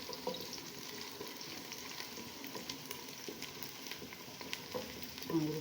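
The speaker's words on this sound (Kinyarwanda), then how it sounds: "gukaranga ibitunguru" Onions fry in a pan with a steady, moderately quiet sizzle and crackle, plus occasional stirring scrapes, with no talking.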